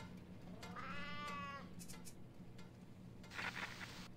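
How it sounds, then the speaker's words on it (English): A cat meows in the survival game Sheltered: one drawn-out, wavering meow in a quiet shelter scene with a steady low hum, followed by a short chirp and a brighter burst of game noise near the end. "Okay, Walter, feed the kitty."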